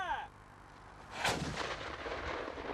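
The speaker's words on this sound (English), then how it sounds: "Bovey Heathfield resonates to the sound of cannon fire." Cannon fire at an English Civil War battle re-enactment on Bovey Heathfield, Devon: a single deep boom lands about a second in, rolling and echoing across open heath afterward, fairly distant.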